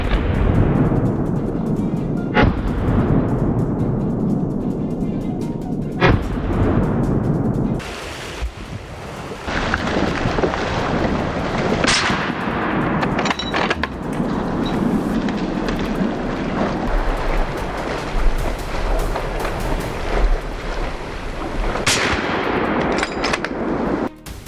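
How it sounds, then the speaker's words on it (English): Rifle shots fired at wild boars approaching a farm, several loud sharp cracks spread across the clip with echoing tails and rumbling outdoor noise between them, no talking. "I raised my rifle and pulled the trigger. The first shot rang out"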